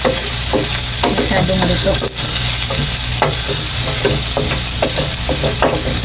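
Pakbet vegetables sizzle loudly in hot oil, a dense, continuous crackle with sharp spattering pops close by, while a voice briefly talks over it.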